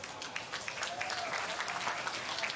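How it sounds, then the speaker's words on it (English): A crowd at the Boost Mobile Gold Coast Pro surfing finals applauds for a Gold Coast City Council representative, a brief stretch of fairly faint, steady clapping with a little background chatter. "Round of applause,"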